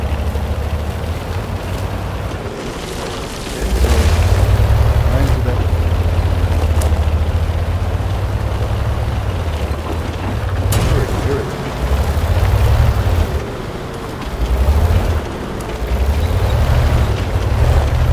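Enemy fire bursting near a tank in a tank video game, several low booming blasts spread over a rumbling engine drone, with sharper cracks at intervals, moderately loud.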